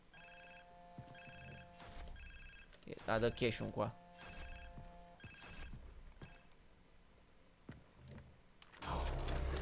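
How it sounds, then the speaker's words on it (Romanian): A telephone rings in the Far Cry 3 video game, three repeated electronic trills at a steady pace, followed by someone talking over clatter and game noise. "Te auzi un telefon."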